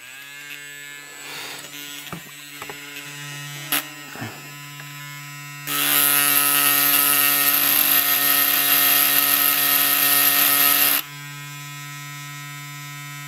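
A homemade electric engraver's motor hums quietly amid a few clicks and handling knocks, then speeds up to a loud, high-pitched whine for about five seconds before dropping back to a low hum.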